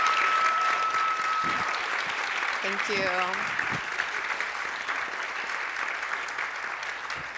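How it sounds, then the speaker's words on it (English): An audience at a panel discussion on the history and future of queer fashion gives a sustained round of applause, steady and full throughout, with a voice briefly speaking over it midway. "Just want to give this panel, a beautiful, amazing panel, another round of applause."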